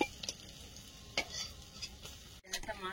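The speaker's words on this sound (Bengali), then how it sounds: "উনুনে কড়াই গরম হচ্ছে, মাছগুলো ভেজে নেব।" Pond fish frying in hot oil in a wok on a stove, a steady close sizzle with a few sharper spatters and stirring scrapes.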